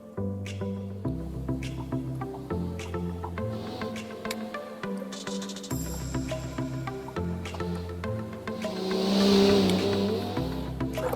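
A Voltus Marauder executive car in a racing video game screams at high revs, then brakes hard on the Top Gear test track with a rising tire squeal near the end, engine tones stepping through gears, no talking.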